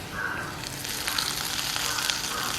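Cumin and fennel seeds hit hot oil for tempering in a bitter gourd and prawn stir-fry, a loud, close, continuous sizzle and crackle lasting a couple of seconds without speech.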